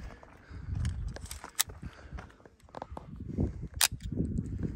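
A semi-automatic .22lr rifle fitted with a Nelson Little Spoon silencer fires several suppressed shots, sharp muffled pops spaced irregularly, with handling noise and movement between them.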